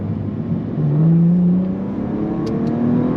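A 2022 Bentley Continental Speed on a race track pulls away as the driver rolls on the power, a smooth rising engine drone with a tonal whine, steady and moderately loud inside the cabin.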